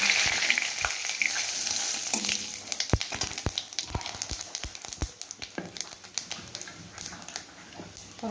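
Cumin seeds sizzle and spit in hot oil in a wok, a steady frying hiss broken by sharp crackles and pops that grow more scattered as the seeds darken.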